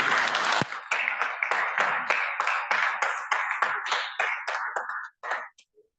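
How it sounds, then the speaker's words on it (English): A few hands clap in a steady, even rhythm close by, the claps gradually thinning out before stopping. "Please another round of applause for our president."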